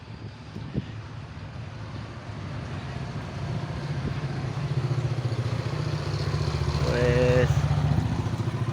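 New motorcycle engine idling and revving as it rides and pulls in to park, a steady low drone that grows louder toward the end, with a short horn-like tone near the close and people talking over it.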